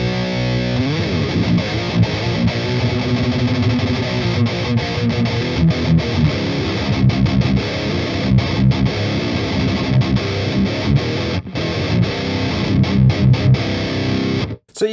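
A heavily distorted electric guitar through an HVT Bulldog Super Lead amp on its boosted lead channel plays continuously, thick and loud, with chugging chords and sustained notes throughout before cutting off at the end.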